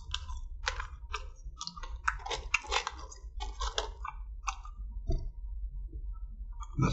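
Crunchy chewing of McDonald's Malaysia curly fries, close and dry, a steady series of crisp crunches and clicks in near silence.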